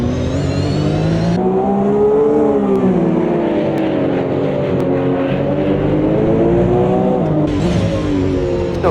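A Porsche Cup race car at Long Beach, heard from onboard at high engine pitch. The revs fall under heavy braking, then climb again as it accelerates. The engine note is loud and continuous, with no voices.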